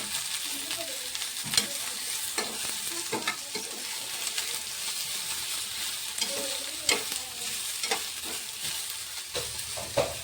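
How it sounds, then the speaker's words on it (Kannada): Tomato, green chilli, coriander and mint fry in a pan with a constant bright sizzle, broken by repeated scraping and clattering strokes of a spoon stirring throughout. "ಇವಾಗ ಇದನ್ನು ನೀಟಾಗಿ ಫ್ರೈ ಮಾಡ್ಕೊತೀನಿ"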